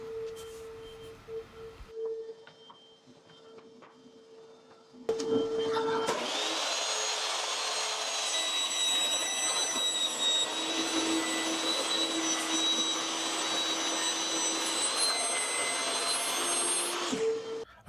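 Power saw cutting a piece of wood in half for the leg corners of a toy chest, starting with a whine and running as a loud steady buzzing roar for about eleven seconds before stopping.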